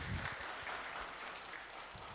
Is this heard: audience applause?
yes